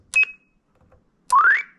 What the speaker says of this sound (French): tu peux écouter tes Roger Bip